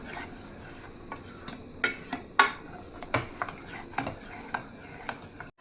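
A spoon stirs mustard greens (sarson saag) in a pot, making irregular metallic clinks and scrapes against the pot, some sharp and close. The clinks come roughly every half second over a soft background, with no talking.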